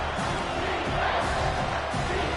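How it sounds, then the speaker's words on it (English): Stadium crowd at a football game roaring behind the defense on third down, a dense, loud, continuous wall of cheering and shouting with no clear gaps. "Decibels rising as the crowd gets behind this defense on third down"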